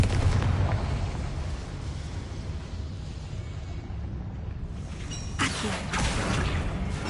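A Confringo blasting spell explodes in a video game, a dense rumbling roar running throughout with a sharper, brighter burst flaring near the end.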